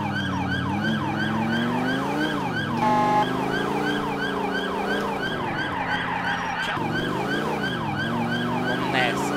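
A loud, continuous wailing police siren in the video game GTA IV, cycling up and down in pitch, with a rapid yelp burst partway through, over a steady engine hum.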